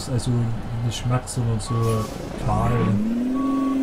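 Reversing beeper of a Western Star 4900FA truck in Euro Truck Simulator 2, a steady series of loud evenly spaced beeps over an idling diesel engine, with someone talking throughout.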